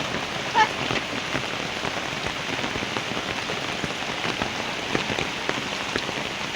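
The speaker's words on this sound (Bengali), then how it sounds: "হ্যাঁ, মুষলধারে বৃষ্টি আছে।" Steady heavy rain pours down, a dense, even hiss of drops pattering on surfaces, with no voices.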